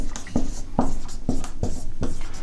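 Chalk or marker writing on a board during an English grammar lesson, a run of short scratchy strokes in a quick, even rhythm, close and fairly loud, with no voices.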